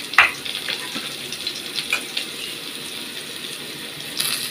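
Potatoes with green chili fry in a pan, giving a low, continuous sizzle with a few sharp clinks and stirring scrapes, one near the start and another near the end, and no talking.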